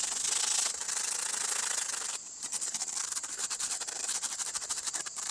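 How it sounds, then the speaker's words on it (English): Sandpaper rubs back and forth over a hand-carved wooden spoon bowl, giving a steady, close, raspy scratching that pauses briefly and then resumes in quicker, choppier strokes. "Then we're going to take the sandpaper and smooth it all down."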